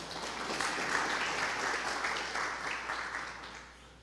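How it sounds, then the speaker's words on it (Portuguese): Church congregation applauding during a sermon, a short burst of continuous, fairly distant clapping from many hands that holds steady and then tapers off over about four seconds. "Vamos aplaudir Jesus?"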